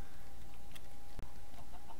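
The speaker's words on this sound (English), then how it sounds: "It's a chicken." A Minecraft chicken gives a couple of short, clipped clucks over a steady hiss of background noise, with a sharp brief click partway through.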